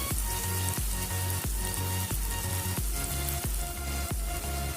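Spices sizzling in oil in a pan while cooking rajma with paneer, a loud continuous fry with rhythmic stirring scrapes roughly every half second and a steady tone underneath, no talking.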